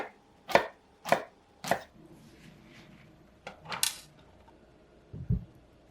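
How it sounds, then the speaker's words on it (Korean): A knife chops through king oyster mushrooms on a cutting board in four crisp, evenly spaced strokes, followed by a pause and a final duller knock, all close up with no talk. "새송이 버섯은 애호박과 비슷한 크기로 써세요"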